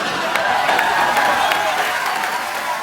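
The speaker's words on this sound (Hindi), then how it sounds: "उनके लिए जोरदार तालियां" Studio audience on The Kapil Sharma Show applauding steadily in a dense, continuous wash of clapping that holds at an even loudness, with some crowd noise mixed in.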